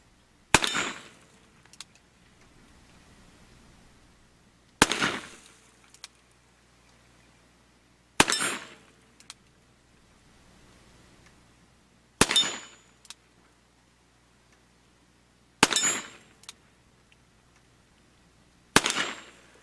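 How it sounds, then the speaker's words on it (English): Six sharp revolver shots fired single action, evenly spaced about four seconds apart. Each is a loud, close crack that dies quickly into quiet. "I'm going to shoot it right-handed today, just for your convenience. We're going to shoot this single action."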